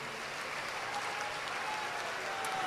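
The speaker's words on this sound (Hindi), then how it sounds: "जोरदार ताली बजा करके सभी अतिथियों को धन्यवाद दो" Loud, dense applause from a large audience at a Bageshwar Dham religious gathering in Mumbai, continuous clapping filling the whole moment.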